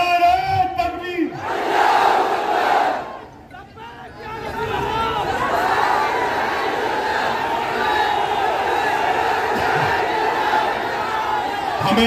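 A large crowd at a political rally in Malegaon answers the Nara-e-Takbir slogan with a loud, unified shouted chant that swells after a lead voice, then settles into a sustained roaring crowd din.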